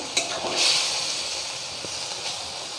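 Potato, pumpkin and shrimp curry sizzling in a pan, with a steady close frying hiss, a few stirring scrapes and brief spatters over the continuous sizzle.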